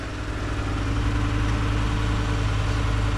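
A 5.0-litre car engine idles steadily with a deep, throbbing rumble, close and loud, with no voices.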